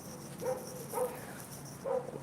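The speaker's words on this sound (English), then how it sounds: "Hear a little dog." A small dog barks three times at even intervals, faint and distant over a low background hum.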